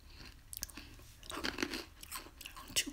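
Close, crisp crunching and chewing of hard, overcooked oven-baked wafer fries, several uneven bites in a quiet room with no talking.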